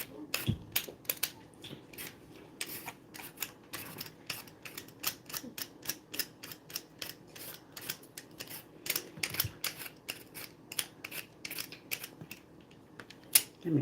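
Peeler scraping the skin off ginger root for boli: a quick series of light, crisp scrapes and clicks in an irregular rhythm, close by and fairly soft.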